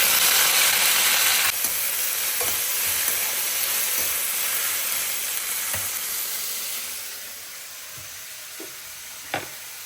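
Shallots, garlic and curry leaves sautéing in hot oil give a steady, fairly loud sizzle that slowly fades, with a few faint clicks from a spoon against the pan.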